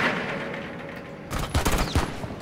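Submachine gun fire in a video game, a loud rapid burst of shots erupting about halfway through over a busy game background.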